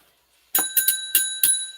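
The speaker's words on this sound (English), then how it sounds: "bell has rung for the final call" A bright bell rings out for a final call, struck in five quick metallic dings with a sustained shimmering ring, close and clear with no talk over it.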